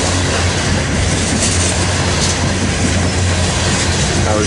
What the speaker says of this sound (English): unit train of coal heading east